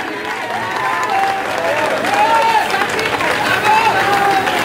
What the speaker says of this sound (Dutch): willen wij graag een applaus voor hij wat nummer voor met ons spelen